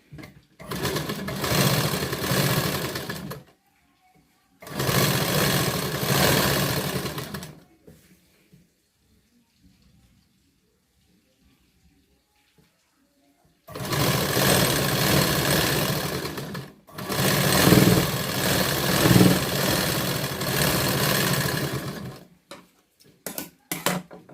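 Sewing machine running in two sustained bursts, stitching a half-inch seam around the neckline of a blouse, with a quiet pause between runs and a steady loud mechanical whir throughout.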